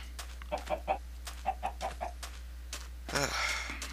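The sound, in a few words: chickens clucking in a video game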